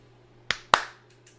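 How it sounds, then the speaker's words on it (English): Two sharp hand claps ring out close and clear in a quiet room, a short gap between them, followed by a couple of faint softer taps. "Clap your hands."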